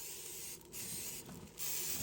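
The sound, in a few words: spraying cooking spray onto meat before barbecuing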